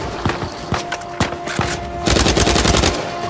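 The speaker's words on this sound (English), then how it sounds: "Shooting me with your cheesy ass pistol" Rapid gunfire from the video game Uncharted 4, including pistol shots, cracks out in quick bursts over a steady game soundscape, dense and loud, especially in the second half.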